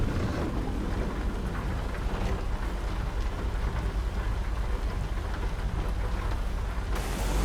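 Heavy rain pours down in American Truck Simulator while driving through Oklahoma, a loud continuous wash of drops with a deep rumbling undertone, steady throughout and alone.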